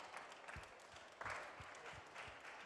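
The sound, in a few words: audience applauding students at award ceremony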